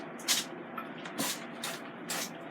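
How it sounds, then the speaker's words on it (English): Cooking spray hisses from a can onto jumbo chicken dogs in a Ninja Foodi XL Grill air fryer, in four or five short close bursts with brief pauses between them. "I'm going to spray these so nothing is white and powdery."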